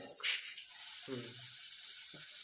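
Water poured into a pot of rice during cooking in a home kitchen makes a steady, close splashing hiss, broken by a couple of brief voice sounds.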